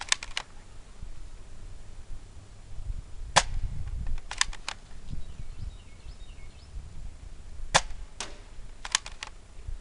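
An AGM spring-powered airsoft M14 fires BBs at a target outdoors in a backyard, giving sharp, snappy cracks alone or in quick pairs, several shots spread across the moment with quiet low rumbling between them.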